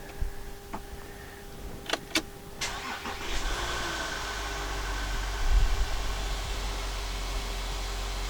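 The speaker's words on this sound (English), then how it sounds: "I want to start the vehicle and then I want to run it through the gears." A VW Touareg engine starts: several faint clicks and ticks, a brief crank, then the engine catches and settles into a low steady idle hum inside a quiet space.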